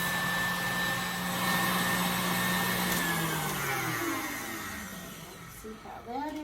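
An electric mixer whisking egg whites with white sugar toward stiff peaks for homemade non-alcoholic eggnog, a steady close motor whir that drops in pitch and slows before stopping near the end.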